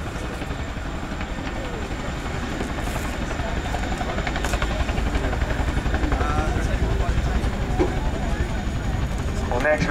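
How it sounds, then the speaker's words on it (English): A Chinook twin-rotor helicopter flying a display at the RIAT 2009 airshow gives a steady, loud rotor and engine roar through the whole stretch, with crowd or commentary voices faintly underneath. "Now the Chinook display complete."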